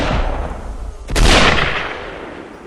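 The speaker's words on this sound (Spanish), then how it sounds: "3 disparos." Gunfire in a dark, tense setting: a loud, close shot bursts out with a long rumbling decay, the other reports blurring into the heavy noise around it rather than standing apart.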